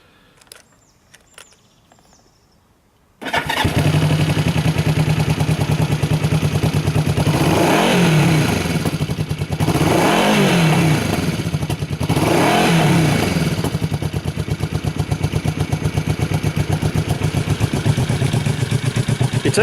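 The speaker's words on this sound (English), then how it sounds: "The engine usually starts with no difficulty." A Yamaha XS400 SE motorcycle engine cranks over and catches after a few quiet seconds, then settles into a steady, loud idle with a couple of brief throttle swells.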